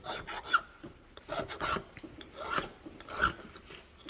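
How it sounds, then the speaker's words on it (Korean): A hand file rasping across metal on a milling practice workpiece, several rhythmic back-and-forth strokes at close range, with no talk. "줄질 잘해야 돼"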